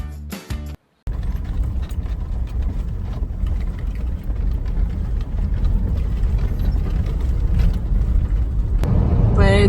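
A car drives on an outback road from Trephina Gorge toward Alice Springs, its steady engine and road rumble loud and continuous, broken by a brief dropout near the start, with no talk.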